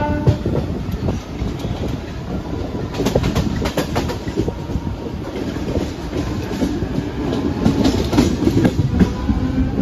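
Mumbai local train running toward Wadala Road, heard from inside as a continuous loud rumble with rhythmic clickety-clack of wheels over rail joints, steady throughout with no talking.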